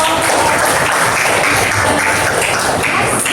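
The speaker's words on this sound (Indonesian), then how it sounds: "Tepuk tangan." Audience applause after a group presentation in a classroom setting, dense continuous clapping at close range, loud and steady throughout the short stretch.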